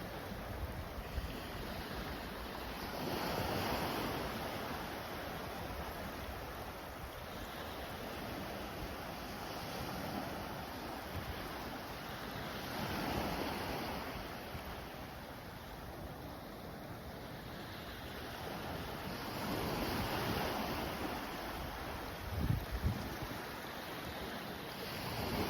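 Surf washing ashore at low tide on Marco Island's South Beach in Florida, a steady soft roar with gentle swells rising and falling every few seconds, plus light wind buffeting the microphone; no voices.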